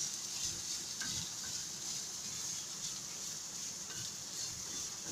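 Beef samosa filling with garlic and ginger cooking in a pan, a soft steady sizzle with a few muffled stirring scrapes, fairly quiet and alone.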